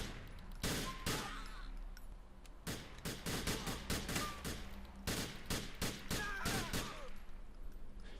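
Grand Theft Auto 4 shootout: rapid, close gunshots crack in quick irregular clusters across the whole stretch, loud and nearly continuous with brief gaps.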